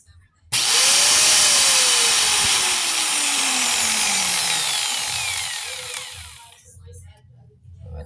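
A power tool with a cutting blade starts abruptly and runs loud for several seconds, a sustained whining buzz with a falling tone before it winds down, and a voice talks faintly beneath it.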